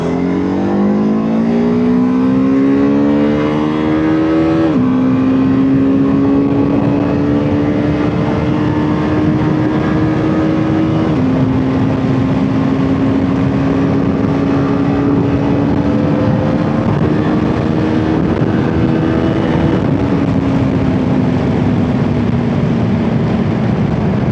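A BMW F450 GS motorcycle with a 135-degree crank twin accelerates hard through the gears, its loud engine note climbing steadily, then dropping at each upshift, roughly three shifts in a continuous close-up roar.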